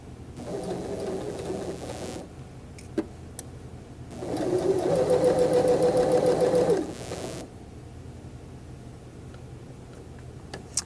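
A sewing machine stitches a hip pocket onto pants in two bursts of rapid mechanical whirring, a short one and then a longer one, separated by quiet pauses with faint clicks and no talking.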